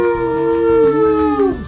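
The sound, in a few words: person imitating a pit bull barking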